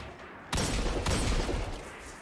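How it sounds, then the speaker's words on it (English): Hand cannon fire in the video game Destiny 2: two sharp, heavy shots about half a second apart, each with a booming decay that trails off, loud against a quiet game background. "this hand cannon does sound a bit meaty."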